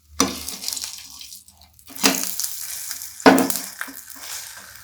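A soybean pudla cooking in a pan just after being flipped gives off a gentle continuous sizzle, broken by three louder clattering touches of the utensil, close by with no voices.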